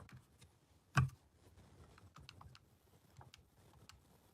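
Fingers tap out numbers on a handheld calculator, giving one sharp, louder key press followed by a run of soft, quick, close clicks with no speech.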